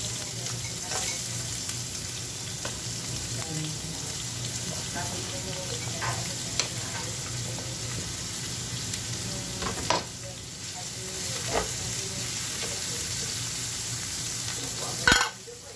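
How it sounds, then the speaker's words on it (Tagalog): Onions sautéing in a pan for a chicken and vegetable dish, a continuous close sizzle with scattered clicks of stirring and a sharper knock near the end, no talking. "Ayun guys, sautihan natin yung ating sibuyas."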